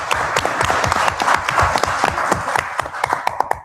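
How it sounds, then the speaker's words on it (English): An audience at a county election debate night claps for veterans, a lively burst of individual claps that thins out and stops near the end. "Give them a round of applause."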